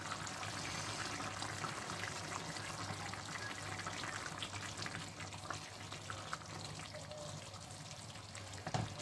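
Rice is washed in water, making a steady soft sloshing and trickling hiss that carries on evenly and faintly throughout, with no talk.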